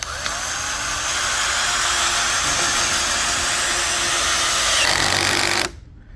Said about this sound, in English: to my impact drill, and it is in the screw mode, and I also attached the screw